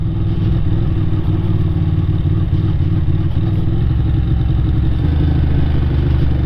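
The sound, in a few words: Ducati 600 Supersport motorcycle riding on toll road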